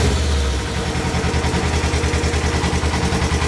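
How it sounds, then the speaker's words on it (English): A 2022 Polaris RZR Trail S side-by-side, with a check-engine light on and a suspected O2 sensor fault, rumbles at a close, loud, rhythmic idle after starting, its steady pulsing exhaust beat running throughout with no talking. "I'm going to go ahead and fire it up."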